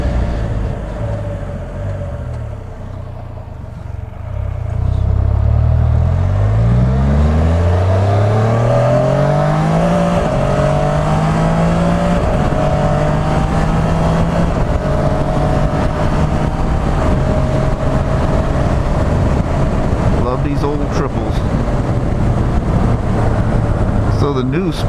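Can-Am Spyder RT three-wheel motorcycle cruising on a highway, steady loud engine drone with a rising shift in pitch as it accelerates, overlaid with constant wind rush.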